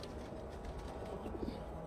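Pigeons in a loft coo softly and briefly at close range against a quiet, low background murmur.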